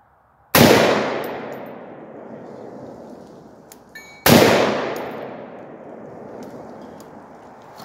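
Two loud rifle shots from a Palmetto PA-10 AR-10 with a 20-inch barrel firing Tula .308 ammunition, spaced a few seconds apart, each a sharp crack trailing into a long ringing echo outdoors.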